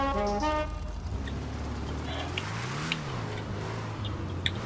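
A Lampadati Viseris in GTA revs, its engine tone rising to a peak then dropping back in a smooth sweep, steady and moderately loud, with short chime-like game sounds at the start and scattered clicks.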